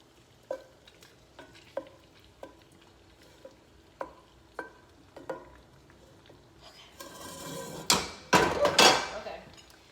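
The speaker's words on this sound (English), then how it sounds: "And then we're gonna add our shrimp. This is a heavy pan" Shrimp hit a heavy pan with a loud burst of sizzling near the end, after a series of sharp utensil taps and scrapes against the pan; no one talks.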